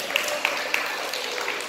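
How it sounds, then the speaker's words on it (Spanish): A classroom audience gives a short burst of applause for a participant named Nicolás, with light, scattered clapping heard briefly. "Un aplauso para Nicolás"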